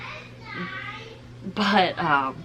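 Excited children reacting to the film Frozen 2 in the background, raised childish voices and squeals mixed with nearby adult talk.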